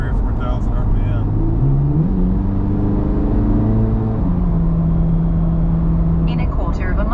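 A Chevrolet Corvette C8 Z06 engine drones loudly from inside the cabin, its pitch stepping up and holding steady at moderate revs, with faint voices at the start and end.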